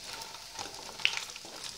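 Idli frying crisp in a pan, a soft continuous sizzle with a sharp little crackle partway through.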